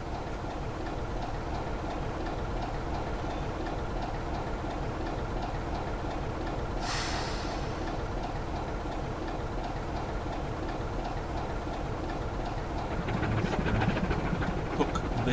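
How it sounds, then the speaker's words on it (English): A locomotive rolls slowly over the Grosmont level crossing, a steady low rumble with faint rhythmic clicks of wheels on rail joints, a brief hiss partway through and the sound swelling slightly near the end. "the gates will close once the loco has made its way across"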